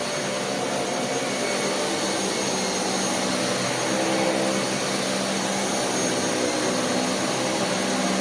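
A Dyson Cinetic Big Ball vacuum cleaner runs on a floor, giving a loud, steady, close-up whoosh of motor and airflow with no talking.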